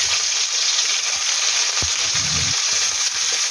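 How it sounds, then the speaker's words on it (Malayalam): Chopped ivy gourd and shallots fry in hot coconut oil, giving a steady, close, bright sizzle that runs throughout with a few soft low bumps, no voices. "വെളിച്ചെണ്ണ ഒന്ന് ചൂടായി വരുന്ന സമയത്ത് അരിഞ്ഞു വെച്ച കോവയ്ക്കയും ചെറിയ ഉള്ളിയും കൂടി അതിലേക്ക് ഇട്ട്"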